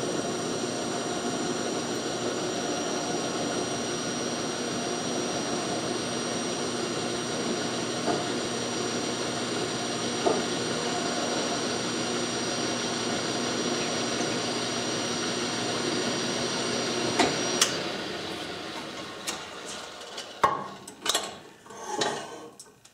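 Cogsdill Burraway tool deburring both sides of a hole in metal: a steady machine drone runs for most of the span, then stops, followed by a few sharp metallic clanks and knocks close by.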